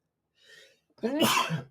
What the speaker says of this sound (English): There's always that random sneeze.